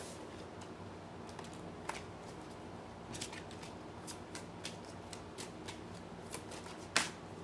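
Tarot cards shuffled for a reading, a steady soft riffling with repeated crisp flicks and slaps, one sharper snap near the end, close and quiet with no talk.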